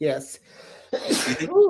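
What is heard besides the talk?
sneeze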